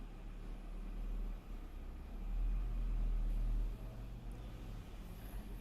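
A truck passes outside, a low muffled rumble that swells for a few seconds in the middle and then fades back into a quiet background hum.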